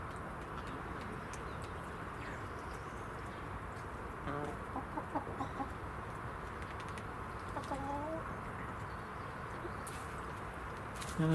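Rhode Island Red and Nova Brown chickens cluck softly in a pen spread with fresh wood chip on an allotment, a few short calls rising now and then over steady outdoor background noise.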